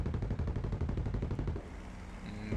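Bursts of aircraft machine gun fire aimed at a Bf 109 during a Battle of Britain air battle in War Thunder, a rapid continuous rattle over engine drone, with a quieter stretch near the end.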